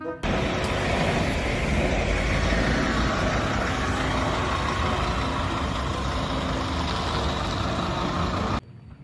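A large bus rolls past nearby, its loud engine rumble and road roar filling the scene almost steadily before cutting off abruptly near the end.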